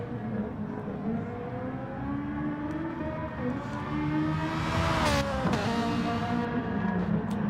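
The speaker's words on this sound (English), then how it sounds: "Oh, I love that sound of that 458." Ferrari 458 race car engine at Willow Springs during practice, heard at a distance with rising and falling revs and a sweeping pass, moderately faint.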